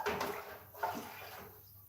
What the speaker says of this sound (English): Now, I'm going to need to put some water in here.